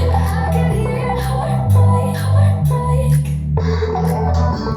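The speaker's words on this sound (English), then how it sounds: "So I'm going to show you the break without the atmosphere loops." Future bounce electronic track playing the drum break without atmosphere loops, heavy punchy bass hits and crisp percussion in a steady driving rhythm with synth tones, loud and full with no talk.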